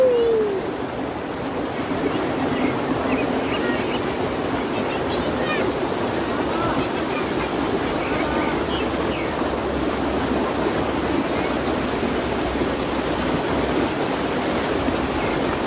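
Steady rushing of a cold river flowing at a swimming spot, a broad continuous wash of water noise that stays even throughout with no clear voices over it.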